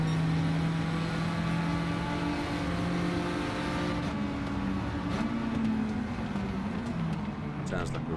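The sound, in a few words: race car engine revving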